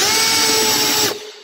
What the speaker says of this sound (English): you're going to drill down in the center of your lumber